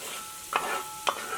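Onions and cashews frying together in ghee for chicken biryani, a soft steady sizzle broken by two brief stirring scrapes in the pan, close and fairly quiet with no talking.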